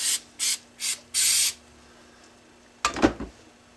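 Four short hissing spray bursts from an aerosol can of spray adhesive, the last one longest, followed by a brief clatter of handling noise.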